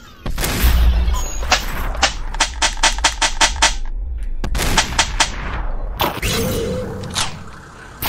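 Loud gunfire in a VR video game: rapid volleys of sharp shots in quick rhythmic bursts, separated by short pauses, with another heavy shot or impact near the end.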